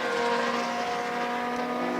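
Pre-1966 Grand Prix racing cars with Coventry Climax and Alfa Romeo engines racing at Silverstone, a steady sustained engine drone with a held pitch, loud and continuous.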